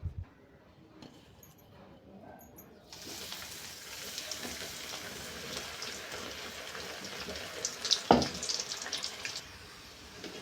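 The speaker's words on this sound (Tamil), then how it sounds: "நம்ம பெரட்டி வச்ச வாழைக்காயை எண்ணெயில் போட்டு பொரிச்சு எடுத்துக்கலாம்." Sliced raw banana pieces dropped into hot oil in a kadai over a medium flame, with a quiet start giving way to a steady, close, crackling sizzle and a brief clatter midway.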